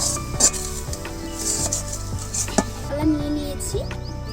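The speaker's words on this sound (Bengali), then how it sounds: "এবারে আমি এটাকে ভালো করে গুলে থালাতে ঢেলে নেবো" Ripe mango pulp, seasoned with ground fennel and cardamom, is stirred and mixed in a pan, giving a steady wet churning with scraping clatter throughout at close range.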